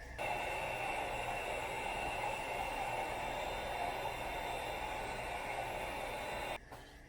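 A heat blower runs with a steady, loud whooshing hiss while it shrinks a heat-shrink ferrule on a putter shaft, then cuts off abruptly near the end.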